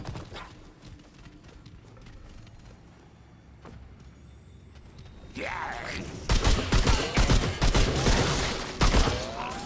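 Gunfire in Remnant 2: a quiet stretch of scattered faint clicks gives way to a sudden run of loud, rapid shots and impacts that keeps going to the end.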